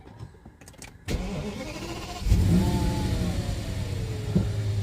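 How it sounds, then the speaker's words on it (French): An Audi S8 fires up with a keyless push-button start: a brief starter crank, then the engine catches and settles into a steady, close-up idle with a slight rev flare, no talking heard. "on va faire un petit démarrage sans clé"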